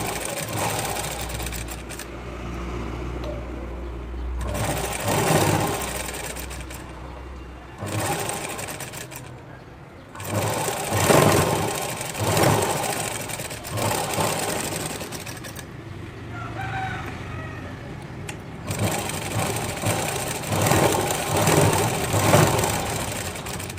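Sewing machine stitching a blouse, running in steady rapid bursts with brief pauses between runs, a close mechanical whirring clatter with faint background noise.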